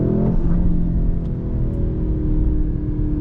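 Heavy 2023 Mercedes C63 AMG under full-throttle acceleration: a steady, loud engine rumble and whir from inside the cabin, building continuously with no speech.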